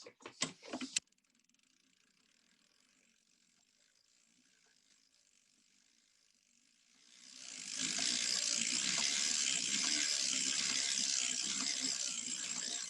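A hand-cranked sock knitting machine working a thrummed sock: a few sharp clicks, then a quiet pause, then a steady, close, dense ratcheting whir of the turning cylinder and needles that keeps going without voices.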